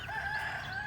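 Nine-week-old Kosher King meat chickens from Freedom Hatchery, a flock of 26, give a steady, fairly faint stretch of tonal calling and clucking with no break.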